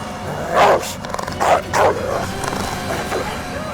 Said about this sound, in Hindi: ये तुम्हारे बीमार कुत्ते हैं?